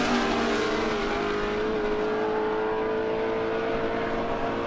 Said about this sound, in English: so I can hear the hum of those cars